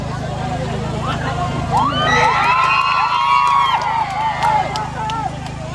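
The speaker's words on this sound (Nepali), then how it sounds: "हामी सबैले हुटिङ गरेर ताली बजाएर सपोर्टै अगाडि बढ्नुहोस्" A lively outdoor crowd at a small village program in Hemja cheers and shouts for competitors climbing a bamboo pole, with excited voices rising and swelling in the middle over constant babble.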